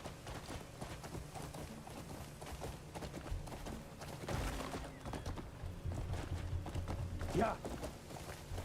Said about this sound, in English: I want to mount my horse.